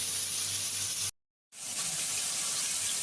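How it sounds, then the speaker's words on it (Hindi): Water poured from a glass into a pan of chicken mince, a steady close gush of running liquid that cuts off briefly to silence and then resumes. "इसमें मैंने ये 1 गिलास तक पानी डाला है"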